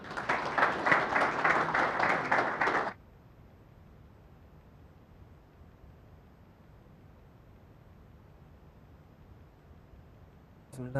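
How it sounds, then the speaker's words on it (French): A burst of applause from an audience at an official opening ceremony for about three seconds, cutting off abruptly and leaving quiet room hiss. "Sous vos applaudissements, mesdames et messieurs."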